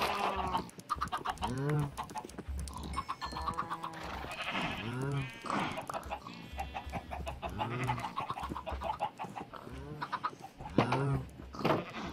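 Chickens in the Minecraft video game make repeated clucking and bleating-like animal calls, fairly close and clear, with some game sounds mixed in.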